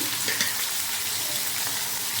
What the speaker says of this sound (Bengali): টমেটোটা হালকা একটু ভেজে নেব।